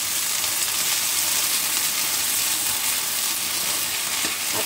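Wild garlic stir-fries in a hot pan with oyster sauce, making a loud, continuous crackling sizzle with faint stirring scrapes and no voices.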